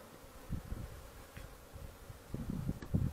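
Honeybees buzzing while foraging on flowering acacia in cold weather at about 11 degrees, a soft, close, uneven hum of insect wings with brief louder passes.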